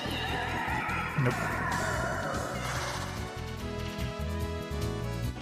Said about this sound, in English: Why did that sheep sound like a horse, by the way?